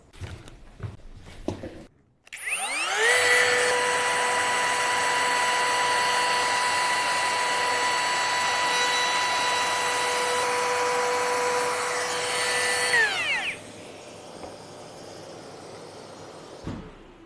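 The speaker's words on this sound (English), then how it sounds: "we're all set up with a 6mm roundover bit and the dust extraction for edge routing" Bosch GKF 18V-8 cordless palm router edge routing with a 6mm roundover bit and dust extraction attached, a loud steady high whine running for about ten seconds before spinning down, alone without talk.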